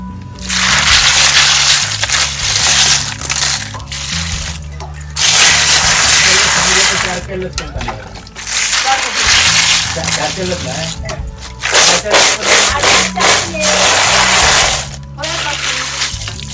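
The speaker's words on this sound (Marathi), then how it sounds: "आता आपण हे दोन तीन वेळा स्वच्छ पाण्याने धुवून घेऊया" Sea snails gritty with sea sand are rinsed and rubbed in clean water, loud sloshing and scraping bursts separated by short pauses, with tonal background sounds running underneath.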